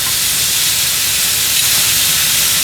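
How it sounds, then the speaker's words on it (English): Filet mignon steaks sear in a very hot pan, giving a loud, steady sizzling hiss that holds without a break and with no talk. "Let's sear these fillets."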